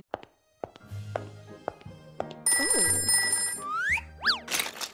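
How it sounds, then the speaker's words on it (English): A cartoon telephone rings in a stop-motion paper animation, a bright repeating electronic ring cutting in after a few soft taps and knocks, with whooshing and sliding effects following close by. "suddenly the phone rang"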